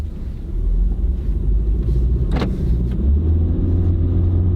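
A Honda car with a CVT accelerates from inside the cabin, with a deep, steady engine and road rumble that swells slightly and holds smoothly, with a brief faint click midway.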